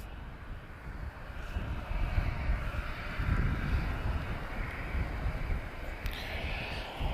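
A Swiss Airbus A220 at Lisbon Airport produces a steady, broad jet engine roar, moderately distant and continuous, with a soft wind-like rumble underneath.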